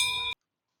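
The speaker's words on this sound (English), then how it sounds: "Take for example the solid heavy brass bell." A solid, heavy brass temple bell rings with a bright metallic tone that is cut off abruptly after a third of a second, leaving silence.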